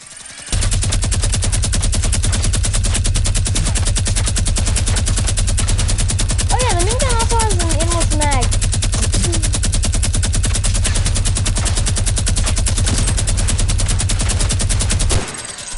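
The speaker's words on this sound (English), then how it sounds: "And here's the minigun." A minigun in the video game Fortnite fires one long, unbroken, rapid mechanical burst lasting about fifteen seconds, loud and close, with a brief whine in the middle.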